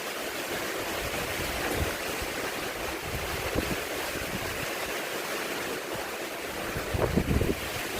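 Strong wind blowing steadily outdoors in the aftermath of a typhoon, a continuous broadband rush with gusty microphone buffeting, loudest in brief bursts near the end, with no talking.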